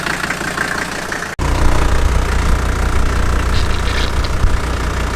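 A Jeep Wrangler with a swapped OM617 diesel engine runs close by, a loud steady rumbling idle with a knocking diesel clatter, briefly cut by a sharp click before continuing evenly.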